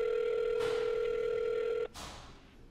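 A flip phone sounds a steady, loud call tone that holds for nearly two seconds, cuts off abruptly, and gives way to a quiet, open line with faint background hiss.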